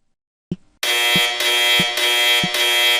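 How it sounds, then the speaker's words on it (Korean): A harsh, loud electronic warning buzz, a missile lock-on alarm in a fighter jet cockpit, starts after a brief thump and holds steady with rhythmic pulsing dips and soft low knocks. "미사일 로크온 경보음."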